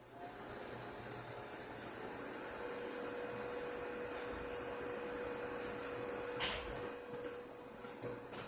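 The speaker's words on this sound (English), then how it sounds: "Microwave is on." Microwave oven running on a solar inverter setup, a steady mid-level hum with a faint tonal whine settling in after a couple of seconds, continuous and moderately close with no talk.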